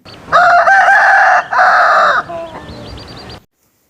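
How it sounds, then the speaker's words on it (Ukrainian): A rooster crows loud and close, a long drawn-out call with a brief break in the middle, then trails off into a few softer clucks. "Півень кукурікає."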